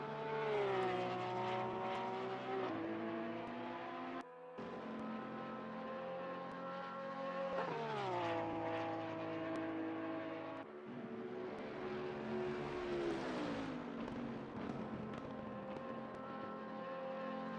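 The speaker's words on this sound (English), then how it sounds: "Porsche sounds so good, wide open, coming down that hill." Porsche GT3 race car in a racing game at Bathurst, engine howling at full throttle downhill, loud and sustained with rising pitch sweeps through gear changes and a brief cut near four seconds.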